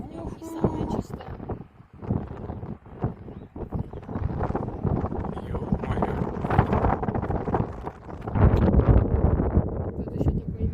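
Strong wind buffeting the microphone at an outdoor viewpoint near Pottenstein, Germany, a continuous rough rumbling roar throughout, with people talking over it.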